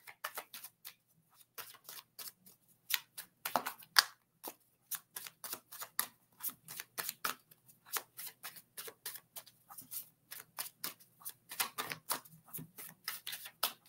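Playing cards being shuffled by hand at a table, a long run of rapid dry riffling flutters and soft taps in uneven bursts, close and fairly quiet, with no talking.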